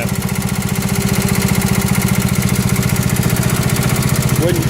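A Kohler 8 horsepower K series single-cylinder engine on a John Deere 110 tractor idles close by, giving a loud, steady, rapid thumping putter that runs unbroken throughout.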